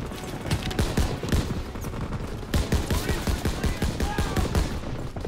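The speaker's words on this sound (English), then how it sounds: "How the fuck is there a guy shooting right there?" Dense gunfire fills a WW2 video game battle in the Battle of the Bulge, with overlapping rifle and machine gun bursts rattling continuously and loudly throughout, with no clear pauses.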